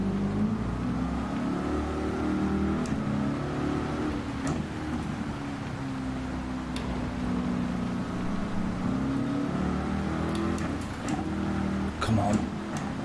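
Race car engine in Gran Turismo 7 on the wet Nordschleife, a steady droning hum with shifting pitch that runs throughout while someone talks over it.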